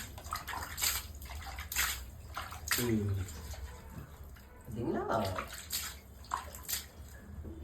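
Anchovies tipped into a basin of water, giving a watery splash and sloshing with repeated bursts of running water across the clip, close by, while a person speaks intermittently.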